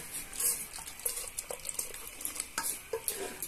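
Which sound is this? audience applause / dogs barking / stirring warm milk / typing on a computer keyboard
stirring warm milk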